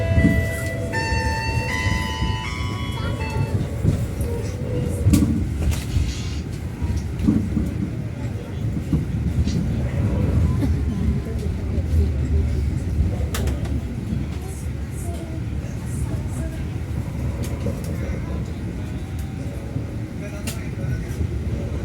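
Steady rumbling of a Kereta Api Indonesia passenger train, Majapahit economy class from Malang to Jakarta, arriving slowly at a station platform with clattering wheels, after a brief chime-like tone at the start, in a noisy, echoing setting.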